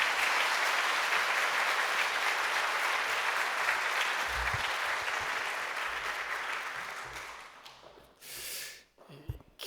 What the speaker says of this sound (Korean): 우리 박수로 한번 모시도록 하겠습니다.